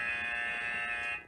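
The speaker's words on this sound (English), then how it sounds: "can you hear the buzzer at home?" A classroom buzzer sounds during an online class as one loud, steady, unbroken electronic tone that holds for just over a second and then cuts off abruptly.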